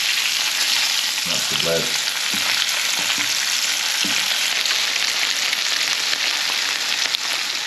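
Fish fillets fry in a pan with a dense, continuous close sizzle, interrupted by a few soft clinks and a brief voice speaking over it.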